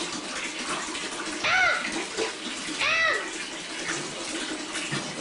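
Tap water pours into a bathtub in a steady, close rushing hiss throughout, with two brief high-pitched vocal cries rising above it.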